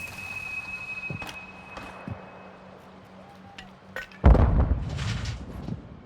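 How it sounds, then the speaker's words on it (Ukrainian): A few scattered distant shots crack, then a louder close burst of gunfire with a rumbling tail, against quiet game-like background ambience in Warzone DMZ. "Вони стріляються там"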